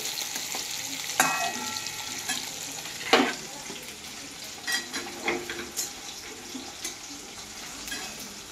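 Salted shushni greens, lightly boiled first, are stirred in a hot pan with a steady frying crackle, punctuated by occasional sharper scrapes and clacks of the spatula against the metal, plus a few soft splashy rustles.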